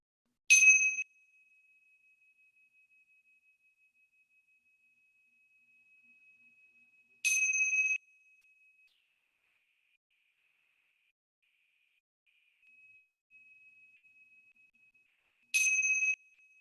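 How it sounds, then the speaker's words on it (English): A meditation bell is struck three times at the start of a sitting practice, each a clear, sustained ring fading slowly, spaced several seconds apart against near silence. "I'll start off by inviting the bell, 3 sounds of the bell."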